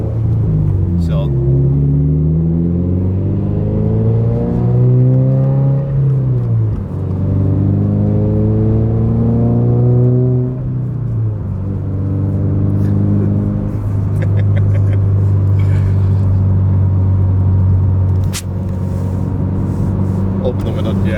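A 2022 Subaru BRZ/GR86 with a Tomei Expreme Ti titanium catback exhaust pulls hard in 4th gear onto a highway, its loud droning engine note rising steadily in pitch, easing briefly, then climbing again under bursts of talk inside the cabin.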